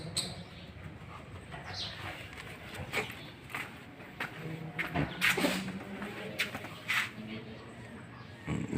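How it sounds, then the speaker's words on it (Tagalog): Pet birds kept at home call in scattered short chirps and coos, fairly faint and spread over a quiet room background. "Ibon."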